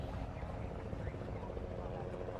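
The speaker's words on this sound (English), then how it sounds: "So I see 3 helicopters now, kind of sitting there." Helicopters hovering above the Catalina water ski race give a steady, dense low-end rotor and engine drone throughout, moderately distant and unbroken, with no speech over it.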